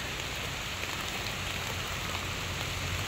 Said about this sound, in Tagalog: Pauwi na po kami at nalakas po ang ulan.